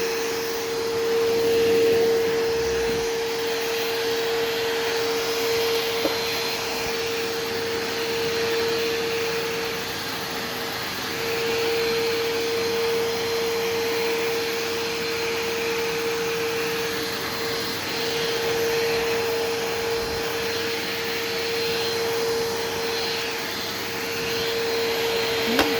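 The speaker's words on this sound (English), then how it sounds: "That is that vacuum, and as you can see, it did awesome on its side of the carpet." A Bissell CleanView vacuum cleaner running on carpet, a loud, steady whine with a constant hum and airy roar, sustained alone and close for the whole stretch with only slight swells.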